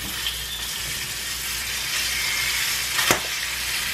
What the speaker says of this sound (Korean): 달구어진 기름에 드디어 게를 투하해 보도록 하겠습니다.